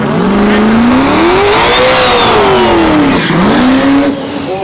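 A Pasadena-built full-size drag racing truck runs the quarter mile, its engine roaring loud and close as the pitch climbs steadily, dips briefly at a shift, then climbs again before fading at the end.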